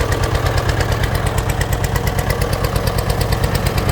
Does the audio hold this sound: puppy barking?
no